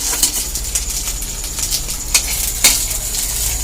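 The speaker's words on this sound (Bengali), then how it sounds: "এরকম চপটাকে আস্তে আস্তে করে উল্টে পাল্টে ভাজতে হবে কড়া করে" Lote fish (Bombay duck) cutlets shallow-frying crisp in a pan over a lowered gas flame, being turned over. The sizzle is a steady, close hiss broken by a few sharp clicks and scrapes of the turning utensil.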